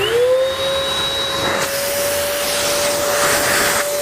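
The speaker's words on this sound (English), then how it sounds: "I'm going to spray that clean water through the gun" A steady, loud hiss of an Earlex HV5500 SprayStation spray gun blasting clean water into a bucket runs continuously, with a constant high mechanical whine beneath it and no talk.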